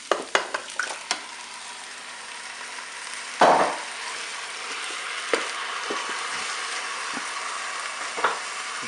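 Peeled tomatoes drop into hot rice in a Cookeo cooker for beef meatballs with rice, giving a sudden wet splash and sizzle, then a steady frying hiss broken by a few light stirring clicks.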